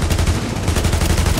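Sniper rifle fire and other gunshots crack in a sustained, dense volley in The Division, loud and near, with a continuous rumble of combat underneath.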